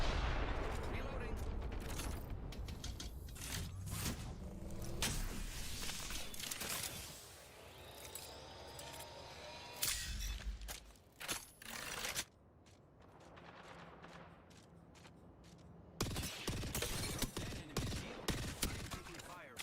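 Rapid video game gunfire comes in dense bursts of sharp, crackling shots with mechanical clicks, loud and close, broken by brief quieter gaps, with speech heard in places.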